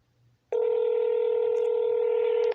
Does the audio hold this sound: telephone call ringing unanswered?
yes